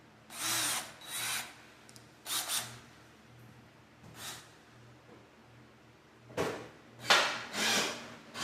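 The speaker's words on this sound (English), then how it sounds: "Drill." Power drill boring holes during a kitchen hood installation, running in several short bursts with pauses between, close and fairly loud, with some handling knocks.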